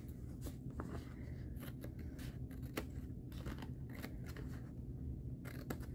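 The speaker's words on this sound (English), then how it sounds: "so now we're going to cut the excess off. So take some scissors" Scissors snip repeatedly, trimming excess edges off a paper craft polar bear sweater, giving quiet irregular cuts and rustling paper close by with no talking.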